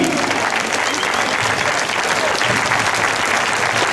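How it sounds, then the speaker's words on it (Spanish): Gala audience at the Mundoculturas 2019 event in Blanes applauding the technical team, a thick, sustained roar of clapping at steady loudness from start to finish with no voices standing out. "Voy a pedir más aplausos"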